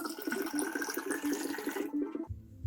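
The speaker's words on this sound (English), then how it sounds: "what I'm going to do is put my gin in first and then my fruits" Tanqueray gin pours in a continuous splashing stream into a 1.5 litre glass jar for about two seconds, then stops abruptly.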